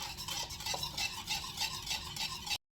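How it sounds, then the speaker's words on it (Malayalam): A spoon stirs sugar and a little sunflower oil in a bowl, rapid rhythmic scraping and clinking that pulses steadily and close, then stops abruptly; no voices. "അതുകൂടി നല്ലവണ്ണം ഒന്ന് മിക്സാക്കി കൊടുക്കുക"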